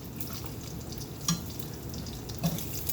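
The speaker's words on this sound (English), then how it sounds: "We got our bacon. Bacon is looking good. Go ahead and flip that." Bacon frying in a pan gives a steady close sizzle with a couple of soft clinks of stirring or flipping, no voices.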